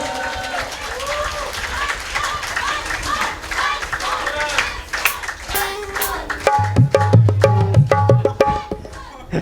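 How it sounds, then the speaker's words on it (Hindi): Audience applause after a live music performance at a tribute concert, a steady wash of clapping from a crowd with a sustained tone and a voice starting to speak as the clapping builds again near the end. "बस तालियां जोरदार होनी चाहिए इस जबरदस्त परफॉर्मेंस के लिए।"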